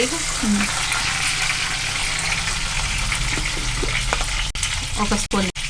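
Ginger garlic paste frying in a pan with curry leaves, a steady, close, broadband sizzle running throughout, with a few brief voice fragments and small utensil clicks near the end.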